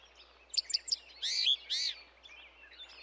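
Cartoon bird chirping from a branch: a quick run of three bright tweets, then two longer warbling calls, moderately loud and alone, with faint chirps trailing off afterward.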